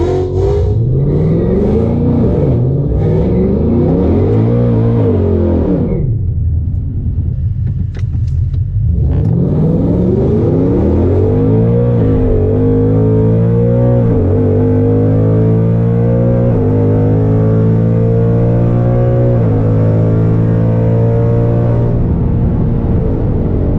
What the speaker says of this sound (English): I'm about to race this fully gutted S650 that I just showed you guys.